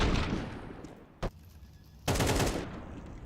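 Rifle fire in a competitive professional shooter match: a rattling burst of shots, one sharp crack, then another dense loud burst, with no voices over it.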